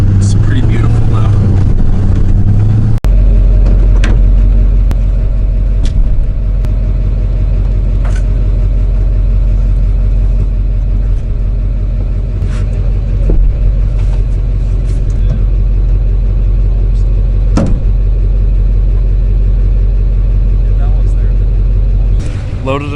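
A truck fitted with aftermarket wheels and tires rolls down a long lane, a loud, steady low engine and road rumble continuing throughout, with occasional knocks and rattles and a sharper change near the start.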